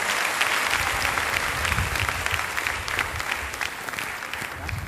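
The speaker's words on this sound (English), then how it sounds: "A clap for yourself, guys." A lecture audience at a college tech festival in Guwahati claps for itself at the end of a talk, a loud, dense and sustained burst of applause from a large crowd filling the whole stretch.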